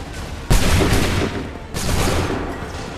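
A musket volley in Assassin's Creed 3: two loud, booming massed gunfire blasts, each with a long rumbling decay, the second about a second after the first.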